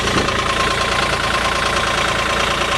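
A 2015 Caterpillar 303.5E CR mini excavator's diesel engine running steadily nearby, a constant mid-pitched drone with a fine knocking pulse and no voices over it.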